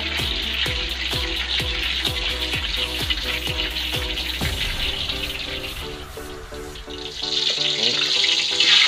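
Sweet and sour sauce bubbles and sizzles in a pan with fried tilapia, a steady hissing boil with faint rhythmic clinks, close and continuous with no talking.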